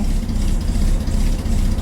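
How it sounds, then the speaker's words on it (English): A Chevrolet Corvair engine idling after a cold start following spark plug wire repair, a steady, smooth low rumble running evenly throughout with no talk over it. "We are idling smoothly."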